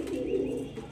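A pigeon's low, throaty coo rolls on steadily for about a second, close and fairly loud, with no voices over it.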